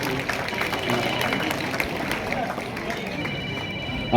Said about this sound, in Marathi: विद्यार्थ्यांनी टाळ्या वाजून या ठिकाणी स्वागताचं